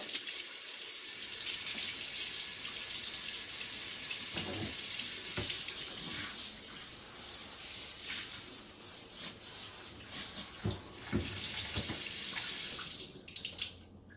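A newly installed kitchen faucet runs hot water in a steady hiss, with sputtering bursts and pops as trapped air spits out of the line near the end.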